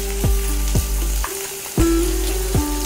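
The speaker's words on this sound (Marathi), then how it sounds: "शिजून घेतलेला बटाटा टाकायचा आहे, चवीनुसार मीठ टाकायचं आहे," Boiled potato stirred and fried with asafoetida in a pan, a steady close sizzle broken by several sharp scraping strokes of the spoon at an uneven pace.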